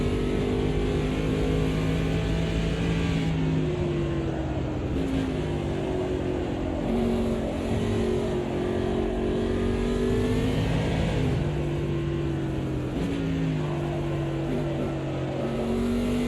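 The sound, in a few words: NASCAR stock car engine revving in Automobilista 2 video game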